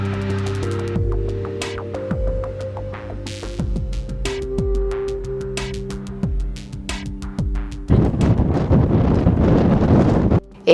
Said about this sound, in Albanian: Era, siç duket, do të jetë sfiduesja jo në këtë udhim